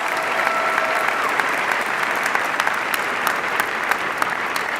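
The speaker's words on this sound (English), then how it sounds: "a round of applause" A large crowd at the McAllen Memorial High School 2018 graduation ceremony applauds the graduating class: dense, steady, loud clapping with scattered sharp claps that continues without a break.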